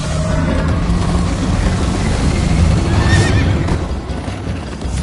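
A horse whinnies loudly over galloping hooves and a dense rumbling background in Minecraft: Story Mode, with a rising neigh standing out near the middle.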